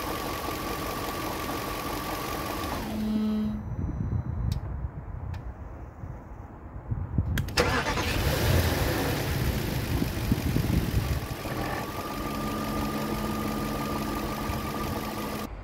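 An Audi A8 4.2-litre car engine shuts off briefly, then cranks and restarts, settling into a steady low idle with a rough, rumbling tone.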